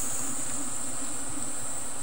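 Bees buzz at a rural beehive, a dense continuous drone with a high whining layer, close and steady throughout, no voices.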